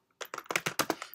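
Quick burst of about eight keystrokes on a computer keyboard, crisp and close, typing code with no talking.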